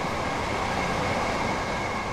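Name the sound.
passing train in video game Train Sim World 4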